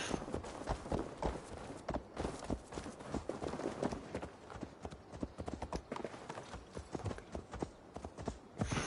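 Horse hooves clip-clop in the video game Assassin's Creed Valhalla, a steady, continuous trotting rhythm of sharp, close hoofbeats lasting several seconds with no other prominent sound.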